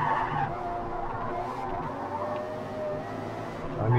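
Tires of a Maserati MC12 in the Forza Motorsport racing game squeal and skid through an oversteering slide, a continuous screech layered over engine drone that stays fairly loud for the whole few seconds.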